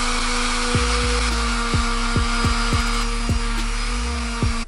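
A power sander works on fiberglass and Bondo filler with 100-grit sandpaper during a Mazda6 repair, a loud, steady whirring drone with rhythmic dips as the tool presses and lifts, close and uninterrupted.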